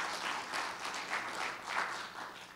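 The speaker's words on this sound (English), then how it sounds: "can we join in giving God a hand clap of praise for this celebration" At a Veteran's Day church service, a congregation joins in a hand clap of praise, a soft, rolling applause that swells and dips slightly and carries on without talk.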